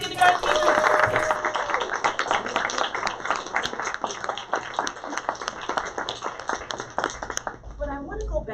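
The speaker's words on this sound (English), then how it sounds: "let's give a round of applause for all our kindergarten teachers" A room of people clapping for kindergarten teachers at a school press conference, a brisk burst of applause from a moderate crowd that thins out over several seconds, with a voice briefly heard near the end.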